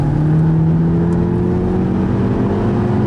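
A VW Polo GTI engine drones steadily under load as the car accelerates on the Nurburgring Nordschleife, heard loud and continuous from inside the cabin with a rising whine and tire roar.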